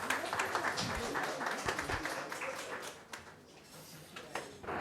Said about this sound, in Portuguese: Queria pedir uma salva de palmas ao nosso secretário.